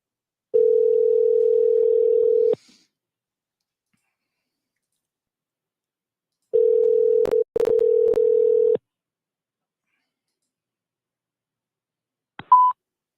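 A telephone dial tone sounds in two steady stretches, the second broken by quick dialing beeps, then a short tone near the end as the call goes through, with no talk.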